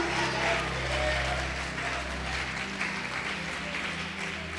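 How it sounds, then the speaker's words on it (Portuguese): Church congregation applauding steadily during a Portuguese-language worship service, a dense continuous wash of clapping that holds for several seconds at an even level before easing slightly. "Você pode aplaudir e glorificar o Senhor."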